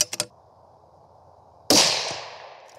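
A rifle shot fired during a ladder load test with a 40.2-grain powder charge seated 10 thousandths off the lands: a single loud, sharp report that decays over about a second, preceded by a couple of faint clicks.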